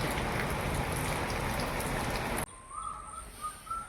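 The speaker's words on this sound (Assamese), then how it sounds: "বৰষুণ, ঢেৰেকণি।" Heavy rain hisses steadily during a storm, then cuts abruptly to a quieter scene where faint drips and scattered bird chirps carry on.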